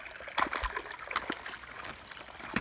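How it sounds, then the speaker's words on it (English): A waterfall pours down beside a hiking trail, a steady close rush of falling water with splashing bursts, continuous and noisy with no other sounds. "it's just the sound of the falls coming down"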